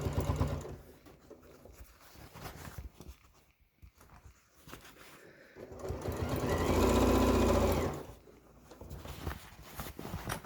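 A sewing machine stitches a seam on a reversible tote bag made from fabric scraps, running in close, steady bursts with brief pauses between passes, with no speech.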